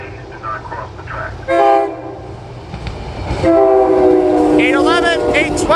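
Loud horn blasts from a SEPTA Silverliner IV commuter train approaching the Lower State Road grade crossing: a short sharp burst, then a longer sustained blast over rumbling wheels and track noise, close and strong.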